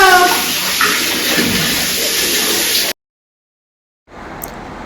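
Steady rushing water fills a toddler's bath, loud and close, then cuts off abruptly into silence before resuming more softly for the last second.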